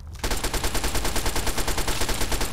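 Rapid automatic gunfire in Fallout 3, a loud close burst of evenly spaced shots that starts abruptly and runs without pause to the end.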